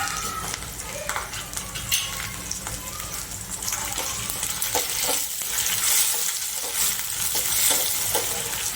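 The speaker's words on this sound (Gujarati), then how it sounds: "હવે કાંદાનો કલર ચેન્જ થઈ ગયો છે તો આપણે ટામેટા નાખીશું" Onions and tomatoes fry and are stirred in a pan for a Kathiyawadi-style panchratna dal, giving a steady close sizzle with scraping stir sounds throughout.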